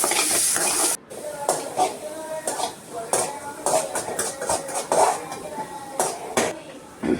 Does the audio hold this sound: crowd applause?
no